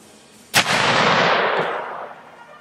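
A single loud blast from a Martini Henry Mk I single-shot rifle during period drill, an abrupt crack followed by a long rolling echo that decays over about a second and a half.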